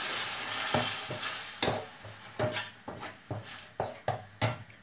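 Peppers, garlic and tomato frying in a pan with steady stirring, a continuous sizzle broken by repeated scraping strokes of the spoon at an irregular, roughly half-second rhythm, close and moderately loud, with no voices.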